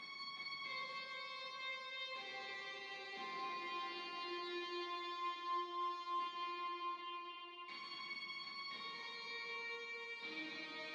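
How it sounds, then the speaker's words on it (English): A sustained, harmonically rich distorted lead plays held notes that shift in pitch every second or two, buzzy and bright, with no voices. "he has like a higher distorted like guitar"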